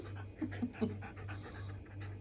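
A dog pants rapidly and rhythmically close by, quick breathy huffs with a couple of small whimpering sounds mixed in.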